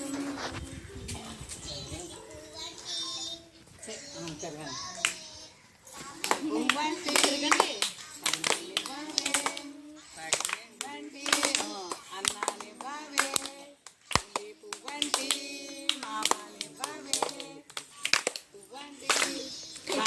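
Rhythmic hand clapping during a Gobbemma festival song at a Gobbemma puja, claps ringing out repeatedly under singing and children's voices, with people talking throughout.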